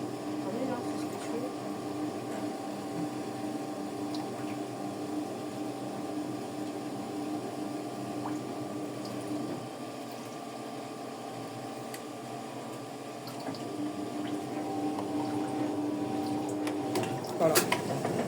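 A Brandt washing machine runs with a steady mechanical hum and a continuous wash of pumping water through the drain and rinse cycle, constant and moderately loud throughout, with a few small clicks near the end.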